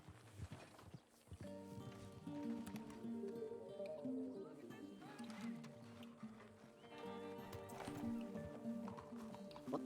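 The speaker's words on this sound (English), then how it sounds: "let me hitch my horse up." A horse's hooves clip-clop at a walking pace in Red Dead Redemption 2 (RedM roleplay), a steady rhythmic plodding heard under a person talking, with a brief whinny.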